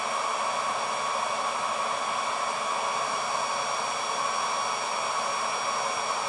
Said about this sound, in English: the fan is definitely slowing down now